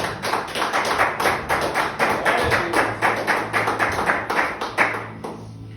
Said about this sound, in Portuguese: Aplauda Jesus, irmãos.